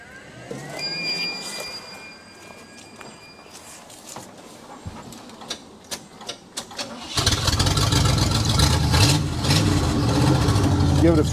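A ramp truck's engine cranks after a stretch of quiet clicks and bumps, then catches and runs at a loud, steady idle for the last few seconds. People talk briefly before it starts.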